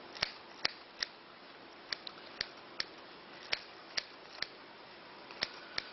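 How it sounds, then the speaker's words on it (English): Scissors snipping fresh mint leaves for mint sauce, a series of quiet, crisp, irregularly spaced clicks of the blades closing, each cut short and distinct against near silence. "I just cut it up with the scissors."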